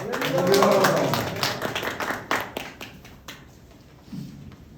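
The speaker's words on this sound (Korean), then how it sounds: "힘차게 할렐루야로 박수 치면서 모시겠습니다." A church congregation claps to welcome a pastor to the pulpit, brisk scattered clapping under a cheering voice and swelling music, then thinning out toward the end.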